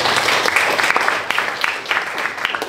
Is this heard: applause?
yes